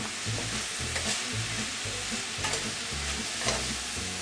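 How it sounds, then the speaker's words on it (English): Apples stirred with white sugar, brown sugar and salt in a frying pan produce a close, continuous sizzle with soft scraping strokes of the spoon repeating every half second or so. "Once I have the apples in the pan, I'm going to start sprinkling in the salt and mix it up a little bit"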